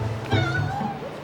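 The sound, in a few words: stray cats meowing in Istanbul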